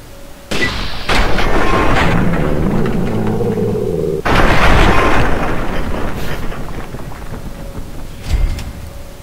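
Hunting rifle fired in the video game Fallout 3, a loud sharp report followed by a long booming rumble, then a second heavy blast partway through that rolls away into a faint tail.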